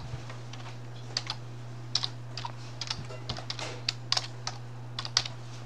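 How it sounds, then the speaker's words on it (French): Light, irregular keystrokes on a computer keyboard tap out an email address, quiet clicks in uneven bursts over a steady low electrical hum, with no voices. "Donc on tape son adresse mail."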